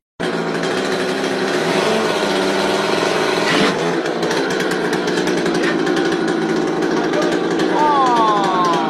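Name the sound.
chainsaw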